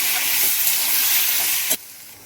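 Tomatoes fry with browned onion in a pan, giving a loud, steady sizzle and hiss that drops off sharply near the end, leaving only a faint, quieter hiss.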